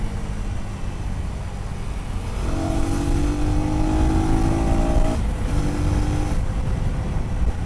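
A KTM motorcycle engine pulls hard through the gears, its rising whine climbing steadily to a loud roar before easing off and climbing again, with no voices over it.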